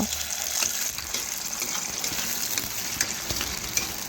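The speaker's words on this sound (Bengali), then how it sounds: "ঝুড়ি ঝুড়ি করে ডিমটা ভেজে নেব" Egg with a little salt frying in a pan while being stirred and broken into scrambled bits for homemade chowmein, a soft steady sizzle with faint scraping ticks.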